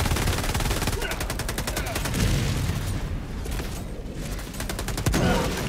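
Dense rapid gunfire rattles in Helldivers 2 gameplay, with sustained automatic bursts and booming impacts under excited player voices.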